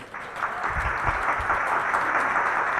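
An audience applauding at the launch of skin laser machines at a skin clinic event, a sustained, dense round of clapping that starts almost at once and holds steady at moderate loudness.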